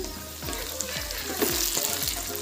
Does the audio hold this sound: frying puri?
yes